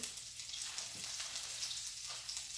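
Liquid hitting a hot frying pan as soy sauce and wine vinegar go in, a steady bright sizzle with a crackling hiss that holds evenly, no voices.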